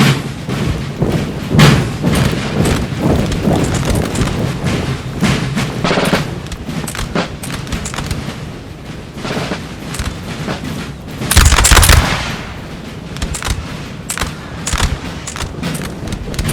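Volleys of musket fire from Danish infantry lines in a Napoleon Total War multiplayer battle, with repeated thuds and booms rolling through a dense, continuous din, and a louder burst near the end.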